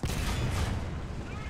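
A War Thunder tank cannon fires with a single heavy, broad blast whose rumble fills the short moment at high, steady loudness.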